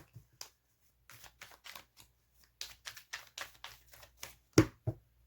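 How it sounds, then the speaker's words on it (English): A deck of tarot cards is shuffled by hand in a series of quick riffling bursts and soft slaps, close and crisp, with short pauses between, ending in a sharper snap. "One more shuffle."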